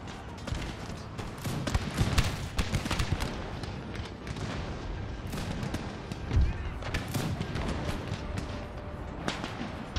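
Battle gunfire in a Total War strategy game: dense, continuous volleys and cracks from many distant muskets, with a few louder booms, rolling steadily throughout.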